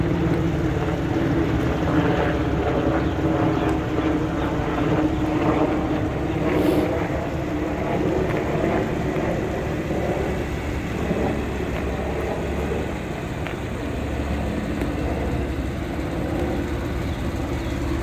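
Car engine and exhaust held at wide open throttle, a steady loud drone with a constant low rumble and harmonic tone that persists throughout without a break.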